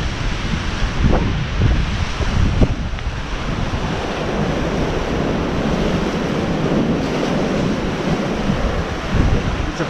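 Sea waves at high tide wash against a rocky shoreline on the Croatian coast near Umag, a steady close roar of surf with heavy wind buffeting the microphone throughout.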